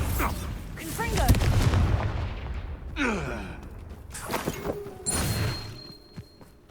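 Bombarda and Confringo explosion spells from Hogwarts Legacy: several booming blasts with crackling debris and whooshing magic, separated by brief pauses, with a voice and sighs mixed in.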